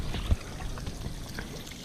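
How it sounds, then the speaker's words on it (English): Water trickles down big rocks on a hillside, a soft, steady babble with small irregular splashes close by and no talk. "Just water just trickling down."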